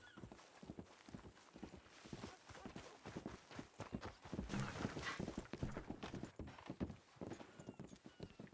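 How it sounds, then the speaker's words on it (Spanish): Horse hooves clip-clop steadily in the Red Dead Redemption video game, a brisk rhythmic walk close by and fairly loud, with faint game ambience behind. "creo que el caballo ha entrado donde los doctores"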